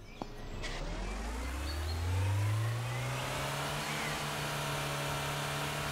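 A car in Trader Life Simulator 2 pulls away with a mid-pitched engine that revs up and settles into a steady drone, loud and close throughout.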